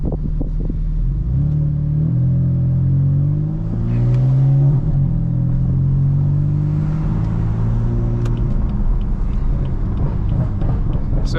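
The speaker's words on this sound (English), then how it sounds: "as you can hear, obviously the burbles are just on all the time when my valves are open" A BMW M4 with an MHD tune and its exhaust valves open rumbles loudly and steadily while driving, with engine tone rising and falling and light crackling burbles toward the end.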